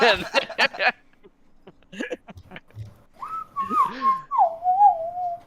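Loud whistled tune held on a steady pitch, following a few seconds of scattered talk, laughs and clicks around a tabletop Pathfinder 2e game session.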